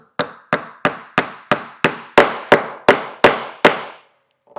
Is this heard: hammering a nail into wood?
yes